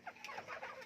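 Chickens cluck softly nearby in a short, quiet burst of several quick, overlapping clucks.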